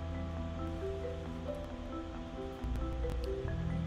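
A waterfall with water plunging deep into a pool, heard as a steady, even roar of rushing water throughout, with a faint tonal hum running beneath it.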